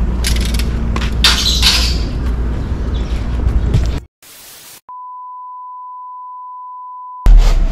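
A cooking timer gives one long, steady electronic beep tone lasting a few seconds, loud and alone after a burst of outdoor noise from a wood-fired cooking setup, then cuts off abruptly.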